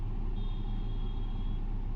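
A vehicle rolling in on a road at Mahabaleshwar, a steady close engine rumble with a thin high whine held for about a second, no voices present.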